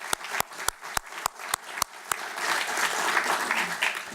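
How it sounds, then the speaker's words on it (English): At an award ceremony for the Ethics & Trust in Finance Prize laureates, about eight crisp, evenly spaced claps ring out before a fuller round of crowd applause swells in and continues to the end. "join me with the applause for the laureates"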